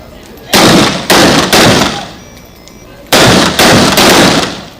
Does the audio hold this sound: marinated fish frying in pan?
no